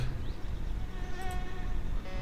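A fly buzzes steadily and close in the video game My Summer Car, a continuous droning whine lasting throughout with no talk.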